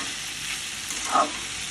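Pumpkin pieces fry in a pan, giving a soft continuous sizzle with a brief stir or scrape near the end and no talking.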